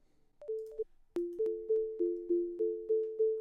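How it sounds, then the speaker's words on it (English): Metronome-style clicks pass through a MaxMSP delay with feedback, first a couple of short pitched beeps, then steady repeating pinging tones with echoes layered in an even, rhythmic pulse, fairly quiet. "So once I do this, you will hear the delay."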